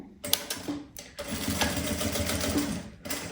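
Sewing machine stitching fabric for a Mickey-themed zippered pouch, a steady rapid mechanical whir in two runs separated by brief pauses, close and loud with no talking.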